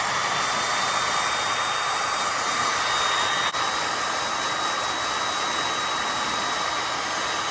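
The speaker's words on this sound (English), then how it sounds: "Let me use the heat gun." A heat gun blowing over a crimped wire connector during a car audio install in a Jeep Grand Cherokee, a loud steady roaring hiss that stays constant throughout.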